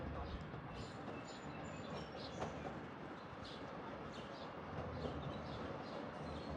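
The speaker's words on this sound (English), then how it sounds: "The 1243 train to Babylon is now arriving on platform." A Long Island Rail Road train on the Montauk Branch rolling into a station platform, a low steady rumble of wheels and engine holding for several seconds, with faint higher squeals and chirps above it.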